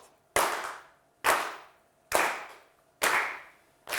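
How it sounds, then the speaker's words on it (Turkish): Five sharp, evenly spaced claps, each with a ringing decay, punctuate a Turkish word-puzzle game show in a deliberately slow, mournful applause pattern, alone and fairly quiet. "Üzgün alkış uzun havasını dinledik hep beraber."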